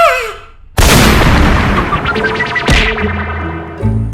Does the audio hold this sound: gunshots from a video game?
yes